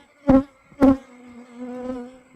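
Bees hover around a hive set in an alley, two close buzzing passes sounding loudly before a fainter, fluctuating hum drifts on.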